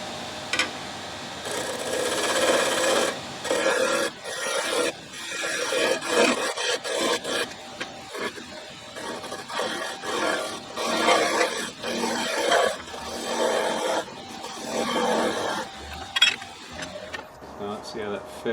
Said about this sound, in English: So for shear scraping, because you need a much steeper angle than when you're cutting, I drop the tool rest a little bit more for that.